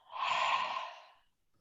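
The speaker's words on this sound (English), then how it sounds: "feel the breath exhaling on your hand with a ha sound" A single soft, breathy exhale with an open-mouthed ha quality, close and gentle, swelling and then fading out within about a second during a yoga breathing exercise.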